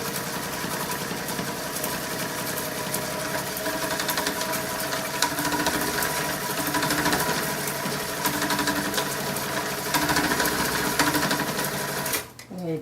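A Janome sewing machine stitches through doubled-over fabric with a steady, loud, rapid needle chatter that runs almost without a break, then stops abruptly near the end.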